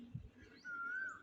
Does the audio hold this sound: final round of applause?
no